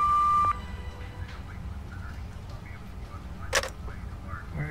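An answering-machine beep in the Fahrenheit video game: one steady, loud electronic tone lasting about half a second, followed by quiet room ambience.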